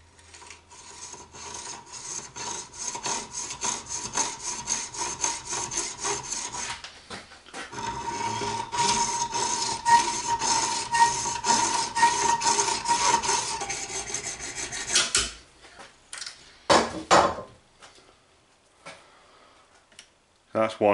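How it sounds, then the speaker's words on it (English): A hacksaw cuts a brass workpiece clamped in a vise, giving repeated rasping strokes in a steady back-and-forth rhythm for several seconds, then a pause and a few final scattered strokes. "that's just going to be a in the vise with a hacksaw job. It won't take long because it's brass"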